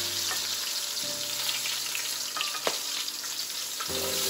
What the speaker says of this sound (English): That's why I did the air fryer right here.